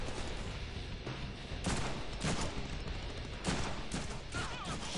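Enemies fire repeatedly in the Deadpool video game, a faint, busy clatter of shots with sharper bursts recurring every second or so over a dense combat din.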